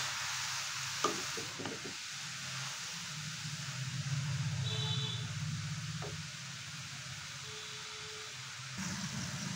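Grated carrots fry in hot ghee in a wok, a continuous close sizzle with a few spatula scrapes and clinks near the start and a lower rumbling hiss through the middle.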